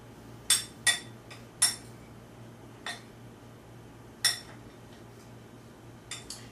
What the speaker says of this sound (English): So you mix that up until you get it all distributed together.